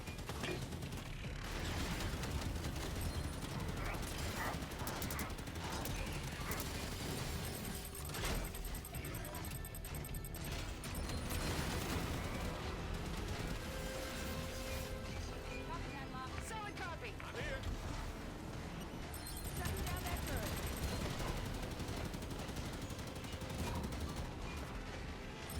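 Gunfire and mechanical clatter fill a Halo 5: Guardians firefight against two turrets, a dense, continuous barrage with bursts of metallic rattling and impacts, loud throughout.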